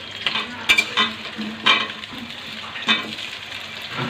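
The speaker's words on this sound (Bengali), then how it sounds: "তো এখানে আলুটা ভেজে নিচ্ছি।" Potatoes fry in a pan with a soft continuous sizzle, broken by several sharp scraping stirs of a utensil against the pan at irregular moments.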